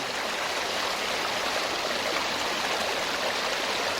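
Steady, full rushing of a flowing clear stream at Khlong Maduea, Sarika, Nakhon Nayok, Thailand, constant and close, with no voices or other sounds.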